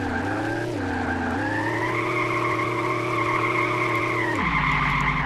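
A car drifting in the Drift86 video game, with a loud, sustained engine drone that rises and drops in pitch as it shifts, mixed with a continuous tire skid throughout.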